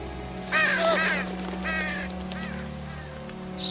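Birds calling from the underbrush in The Walking Dead Season 2 video game, a few harsh caw-like calls in a short run under a steady ambient hum, fairly close and moderately loud, with one faint call near the end.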